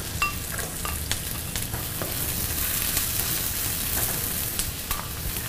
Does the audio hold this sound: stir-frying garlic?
yes